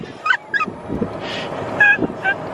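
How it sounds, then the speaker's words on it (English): Ducks and Canada geese call outdoors at dusk: a scattered run of honks and quacks at moderate distance, some overlapping, over light wind and background hiss. "Little ducky doo-dahs. And Canada geese."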